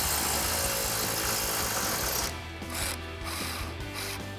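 An impact wrench fitted with an 18 mm socket spins out the outer toe link bolt on a 2015-2025 Mustang rear suspension, a loud continuous mechanical whir that steadies into a slightly lower, pulsing tone partway through, with no talking.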